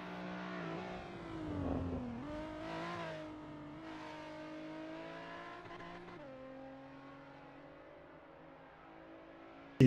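Nissan 370Z and R34 Skyline race cars in Assetto Corsa at Mugello scream through the gears, engine pitch rising and dropping with upshifts and braking, a steady high-revving drone alone.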